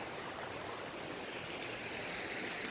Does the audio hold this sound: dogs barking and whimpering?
no